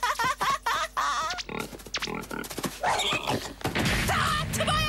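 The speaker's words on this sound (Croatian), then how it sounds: "Ta tvoja glupa svinja sve uništava!" Cartoon pig grunting and oinking in short repeated bursts, loud and up close, mixed with clattering crash and thump effects as characters' voices break in between.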